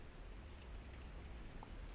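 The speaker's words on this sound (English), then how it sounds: "This is a crazy amount of rain. It is coming down so hard." Heavy rain pours down hard over a rural property, a steady, dense hiss with no pauses that stays fairly quiet and continuous throughout, with no voices.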